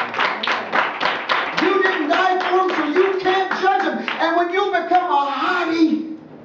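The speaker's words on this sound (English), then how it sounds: "Let's give the Lord a hand clap of praise." A church congregation claps hands in praise in a steady, even rhythm, with voices singing and calling out over the beat throughout.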